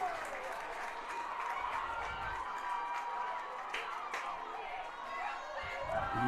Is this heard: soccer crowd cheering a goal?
yes